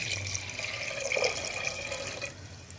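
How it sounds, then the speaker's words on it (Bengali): About a mugful of water pours in a continuous, fairly quiet stream into a pot of spiced vegetables being readied for cooking. "এক মগ মতো পানি"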